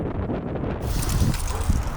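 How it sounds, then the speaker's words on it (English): Wind on a windy evening in Babi Yar Park in Denver, gusting and buffeting the microphone with a low, roaring rumble throughout. "A windy evening."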